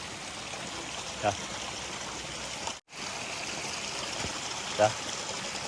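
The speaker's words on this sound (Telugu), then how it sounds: "ప్యూర్ వాటర్ కొండల్లో వేర్లు ఇంకా ఏదైనా వనమూలికలు అన్నిటినీ టచ్ చేసుకుంటా వచ్చే నీళ్ళు" A mountain stream in the Korean hills flows in a steady, soft wash of water. A couple of faint knocks and a brief dropout interrupt it.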